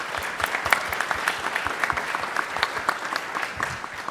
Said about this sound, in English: I think we should just give them a round of applause or something